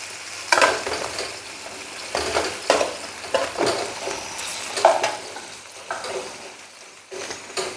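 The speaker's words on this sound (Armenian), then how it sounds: "ուզում եմ խառնել, շուռ ու մուռ տալ" Food frying in a pan is stirred and turned, with a soft continuous sizzle broken by repeated scraping and clinking strokes of a utensil against the pan, close and moderately loud.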